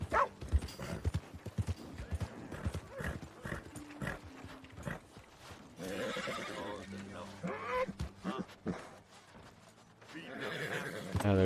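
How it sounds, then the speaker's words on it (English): A horse in Red Dead Redemption 2 gives whinnies and snorts amid clopping hooves and game sounds, with someone talking over much of it. "There's my new horse."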